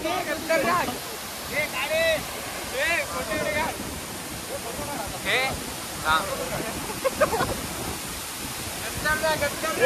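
Kavilavahal waterfall between Borle village and Mangaon gives a constant broad roar of falling water close by. People talk over it throughout.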